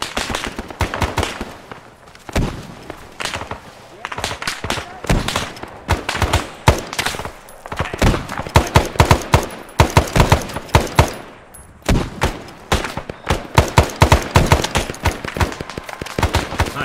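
Rapid, loud gunfire from the Vietnam War game SOG Prairie Fire during a river assault: dense automatic bursts and single shots crackling almost continuously, with voices shouting underneath.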